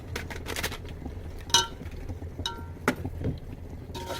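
A spoon stirs biryani masala powder into thick curd with mint leaves in a bowl. Faint scraping and a few sharp clinks of metal against the dish sound close by, with no talking.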